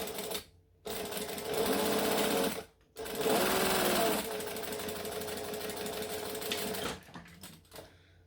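A sewing machine stitches the long seams of a quilt block, running in steady bursts of rapid mechanical chatter with brief pauses between runs, close and loud.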